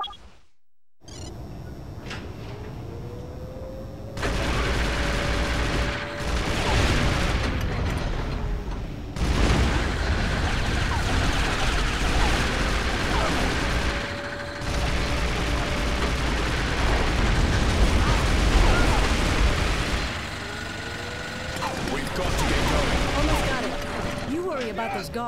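Gunfire and explosions in the PS2 game 007 Nightfire during a driving shootout, loud dense bursts of shots and booms with rumbling engine noise, sustained across the scene.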